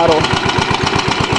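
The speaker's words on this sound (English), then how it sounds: "It's idling as low as I can possibly get it right now." A 1982 Murray 22-inch front-wheel-drive Kmart lawn mower engine idles as low as it will go, a close, rapid, evenly pulsing putter with a rough knocking edge.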